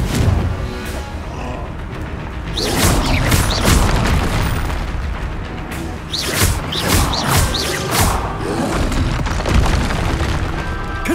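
Confringo spell blasts in the Hogwarts Legacy video game, with repeated loud booming explosions and roaring bursts rolling one after another over a rumbling battle background.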